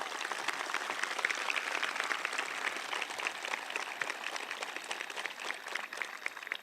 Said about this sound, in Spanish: quiero aprovechar aquí para darle un aplauso a todas las mujeres que están graduando aquí en esta universidad